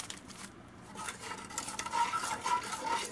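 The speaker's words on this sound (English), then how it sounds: "So you just want to stir that around." Scraping and stirring in a hot pan of ghee with flour, a utensil swishing through sizzling fat in uneven strokes, growing busier toward the end.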